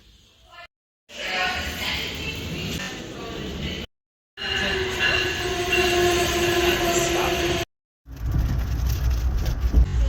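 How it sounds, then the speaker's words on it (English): An Amtrak train roars past at speed, loud and continuous, with rattling wheels and a high squeal, broken by a couple of brief cuts. "Super noisy, the train's going pretty quick."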